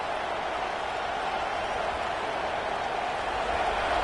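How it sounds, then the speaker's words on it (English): Stadium crowd at a football game roars in a loud, dense, unbroken wash of noise that holds steady and close throughout, with no single voices standing out. "Listen to this crowd just shaking the girders of this place, trying to help their defense."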